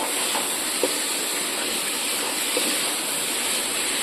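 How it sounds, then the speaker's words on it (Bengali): Mutton sizzles with spices in a pan for a Bengali-style korma, giving a steady, even hiss throughout with a couple of faint ticks and no talking. "মাংসটা আবার ভালোভাবে ভাজা আর কষা দুটোই হয়ে গেছে।"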